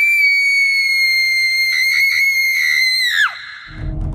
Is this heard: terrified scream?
yes